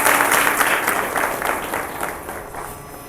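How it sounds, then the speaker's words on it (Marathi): An audience at a musical spiritual discourse applauds, with a dense burst of clapping that is loud at first and then slowly fades over a few seconds. "जोरदार टाळ्या वाजवा या सर्व मंडळी"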